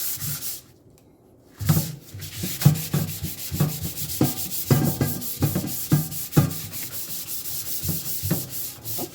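Rhythmic back-and-forth rasping of 600 grit sandpaper on an aluminum pot lubricated with soap, steady close strokes starting after a brief quiet pause and continuing evenly without speech.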